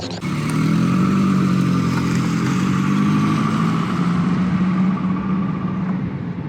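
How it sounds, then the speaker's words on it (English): An old 1988 Volvo 240 engine runs steadily at idle, a close, continuous mid-pitched drone with a slight rattle and no speech. "What a funny little noise it makes. What an unusual car."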